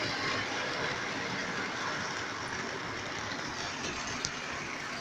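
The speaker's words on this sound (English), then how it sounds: "the trains are quite noisy." Trains running on the HJTR heritage railway heard as a steady, broad rumbling roar that holds constant throughout, moderately distant, with no speech.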